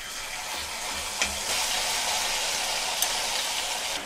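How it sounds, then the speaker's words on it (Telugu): An herbal hair paste fries in hot coconut oil in a kadai, giving a loud, continuous hiss and crackle with a couple of brief sharper pops. "ఆయిల్ కొంచెం వేడైన తర్వాత మనం రెడీ చేసి పెట్టుకుని ఈ పేస్ట్ని ఆయిల్లో యాడ్ చేసుకోవాలండి"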